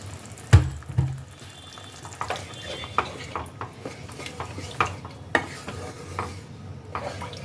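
Water splashed into a pan of masala paste for stuffed Kashmiri aloo dum, with a sharp clatter of a bowl and utensil followed by soft sizzling, scraping and intermittent clinks of stirring.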